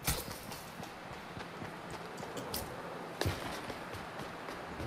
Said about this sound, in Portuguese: Um cavalo.